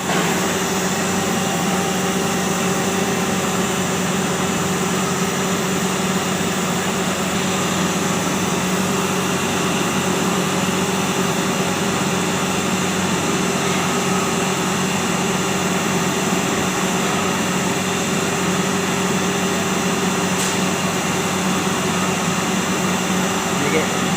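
A PVC pipe extrusion line runs continuously, making 6-inch ASTM D2241 SDR-series pipe, with a loud, steady industrial drone and hum that barely varies throughout.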